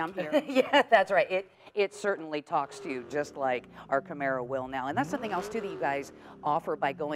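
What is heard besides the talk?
None of the usual background noises is heard.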